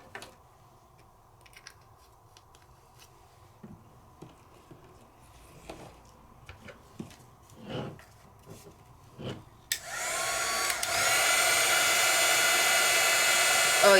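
A heat gun switches on partway through to heat embossing powder on die cuts, a loud steady blowing whoosh that follows several seconds of quiet rustling and small handling taps.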